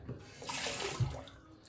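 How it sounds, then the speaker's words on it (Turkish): Tap water runs into a sink while a face is washed after shaving, a soft, close, continuous splashing and trickling with brief louder splashes, and no talking over it. "Evet yüzümü bir yıkayayım"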